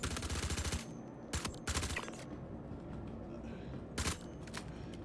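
Bursts of video game gunfire in a space-combat game, several sharp loud volleys near the start and a later burst, over a steady low engine-like drone with a voice talking at times.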